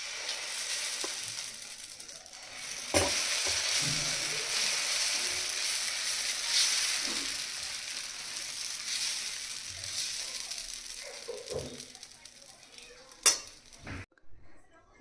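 Moong dal dosa batter with onion and coriander sizzles steadily on a hot dosa griddle, a loud and continuous hiss broken by sharp clinks and scrapes from utensils.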